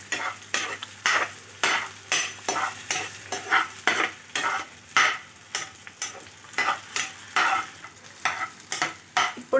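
Finely chopped garlic stir-frying in a pan for chapati noodles: a steady sizzle broken by rhythmic, close scraping strokes of a spatula, about two per second, loud and without speech.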